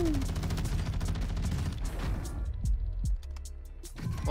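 Rapid bursts of automatic gunfire in Warzone 2 on Ashika Island, loud close volleys and scattered single shots with a deep rumble, some cracks more distant.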